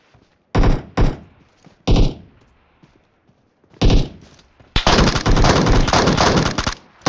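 Gunfire in the shooter game PUBG cracks out in sharp, loud single shots and short bursts, then a sustained rapid automatic volley near the end, all close and without any talking.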